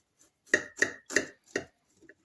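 A knife cuts through a festive cake with a crisp crust and soft interior, four distinct crunching strokes in quick succession, close and clear with no talking.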